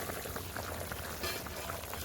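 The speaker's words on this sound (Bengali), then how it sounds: "মাংসের ঝোল ফুটে কমে এসছে একটু" Meat curry broth simmering in a covered pot, a steady bubbling and popping texture throughout, close and fairly quiet with no talk over it.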